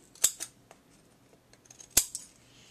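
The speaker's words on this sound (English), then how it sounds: "And now I'm going to cut the edges off here." Scissors cutting the edges off a paper postcard: two crisp, quiet snips about a second and a half apart, each with a short follow-through.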